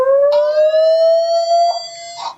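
The built-in siren of an Annke Crater Pro home security camera blares nearby, one loud sustained rising electronic wail that holds steady for about two seconds before cutting off.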